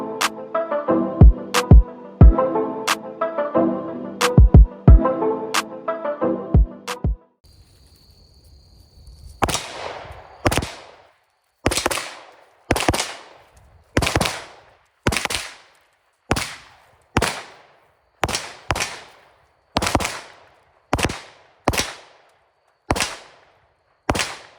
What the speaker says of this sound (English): so I really like shooting this gun.